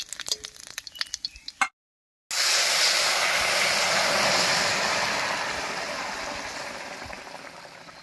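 Fish broth poured into hot mustard oil with whole cumin and bay leaves gives a loud, sustained sizzling hiss that slowly fades, after a few earlier clinks.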